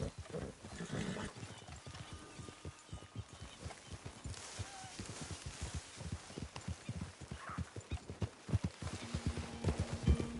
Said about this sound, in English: Hey, you got a problem with that horse?